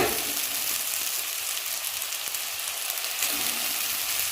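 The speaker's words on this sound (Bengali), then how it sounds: "এর মধ্যেই তো চাউটা ভাজবো, ওই জন্য একটু বেশি করে তেলটা দিয়েছি" Boiled chow noodles fry in a generous amount of oil in a pan, giving a steady, dense sizzling hiss that carries on alone throughout.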